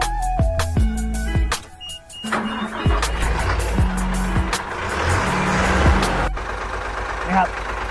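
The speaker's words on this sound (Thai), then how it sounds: "เดี๋ยวไปฟังเสียงเครื่องทั้งสองคันกันนะครับ" A truck with an AO 9C engine and a large ZF gearbox runs close by. Its engine drone rises and falls in repeated pitch sweeps over steady rumbling noise.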